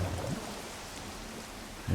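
Steady rain from the video game Minecraft hisses as a dense, even wash of drops, with low rumbling swells at the start and end that sound like distant thunder.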